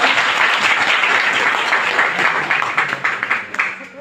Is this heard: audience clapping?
yes